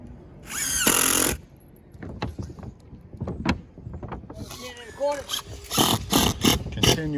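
A power drill drives 1.25-inch exterior deck screws into plywood on a singlewide mobile home roof. It gives several short whirring bursts, some close and loud, with someone talking between and over them.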